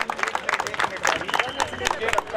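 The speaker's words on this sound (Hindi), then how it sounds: "Round of applause for all the staff members." Applause for staff members at a school sports meet, a crowd's scattered clapping mixed with someone speaking over a loudspeaker.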